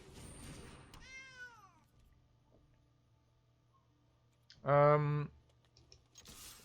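Cat card being played in the digital card game MTG Arena, giving a short rising meow near the start and then a louder, drawn-out synthesized meow over quiet game ambience and faint clicks.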